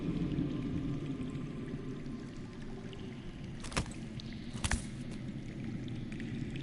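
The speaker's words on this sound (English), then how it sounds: "That's water. I hear water." Underground running water in a video game, a steady low rushing wash that fills the scene, with a couple of brief clicks or knocks partway through.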